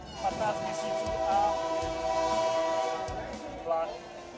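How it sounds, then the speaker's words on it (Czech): A US train horn blares in a long sustained tone before a level crossing, moderately distant, with brief swells as it sounds repeatedly. "vlak, který musí třikrát před každým přejezdem zatroubit"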